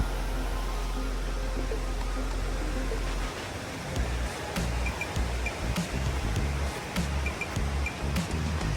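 Meenmutty waterfall at Kallar, deep in forest, giving a steady broadband rush of falling water that continues unbroken throughout, with a faint low rumble underneath and no voices.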